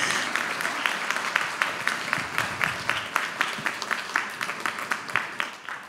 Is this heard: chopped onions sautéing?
no